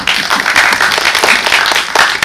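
Audience applause at a film premiere and audience talk at a CGV cinema, dense, loud clapping from many hands sustained without a break.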